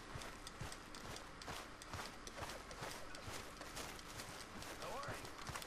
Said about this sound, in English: Just gonna go get on my horse, boys.